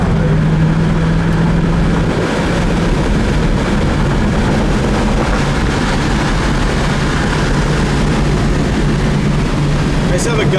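A 1977 Pontiac Grand Prix SJ with T-tops cruises at 60 mph, a steady low engine drone and road rumble filling the cabin without a break, with a faint whistle of wind.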